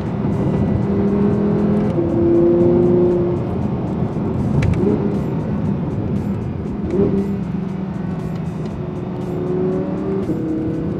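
Audi R8 V10 Plus in Dynamite Red with a mid-mounted engine, revving loudly while driving, its pitch climbing and dropping through gear changes in a steady, close, continuous roar with no talk.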